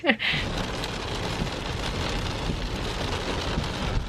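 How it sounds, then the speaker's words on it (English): Torrential rain storms outside a caravan in Wales, a dense, steady hiss of drops drumming on the roof. It opens with a brief louder knock and carries on without letup, with no talk. "it's actually torrential rain outside at the moment"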